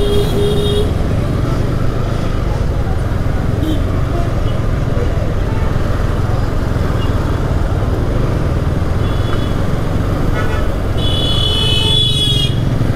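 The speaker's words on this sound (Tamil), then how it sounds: "இந்த டைமுக்கு இவ்வளோ டிராஃபிக்கா?" Heavy road traffic streams past in Vellore at midday, heard from inside a Citroën Basalt on a test drive. The dense engine and road noise runs continuously, with high horn toots breaking out now and then and speech mixed in over it.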